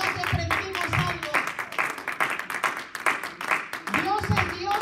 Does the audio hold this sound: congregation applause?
yes